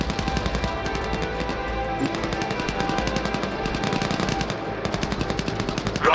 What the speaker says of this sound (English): Exchanging fire with enemy infantry.